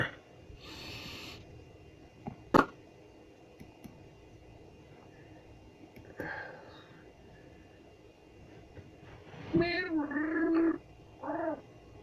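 A man imitates cat meows with his voice, a few short wavering mewing calls near the end after some breathy noises, fairly close and moderately loud with no other talk.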